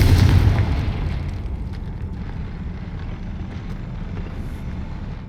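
A Confringo fire spell blasts in Hogwarts Legacy: one loud, close boom at the start that rolls away into a fading rumble with no voices.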